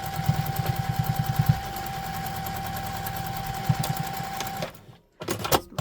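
A sewing machine basts a leather wallet piece with a rapid, steady stitching rattle in bursts, pausing briefly near the end before restarting, close and loud with no talk.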